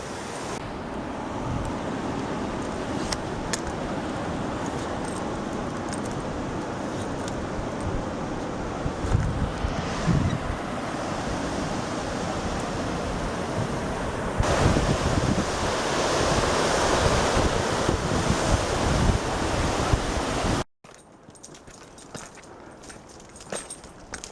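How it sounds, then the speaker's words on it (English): Rushing river water at the confluence of Whiskey Creek and the Rogue River, a steady broadband roar mixed with wind noise on the microphone, continuous and close, cutting off abruptly near the end. "This here is the confluence of Whiskey Creek into the Rogue River."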